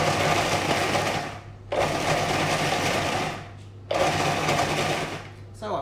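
A food processor with a worn, dulling blade pulses stale bread into crumbs in three loud motor bursts with brief gaps between them, the whirring steady during each burst.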